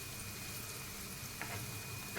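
Paneer pieces pan-fry and roast on both sides, giving a steady, fairly quiet sizzle throughout, with a couple of brief clatters near the end as pieces are turned.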